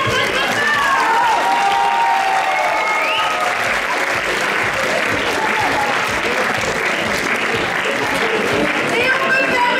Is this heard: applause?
yes